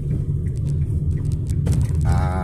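A car engine rumbles low and steady from inside the moving vehicle near the Batangas pier, with faint rattles and a brief higher whine near the end.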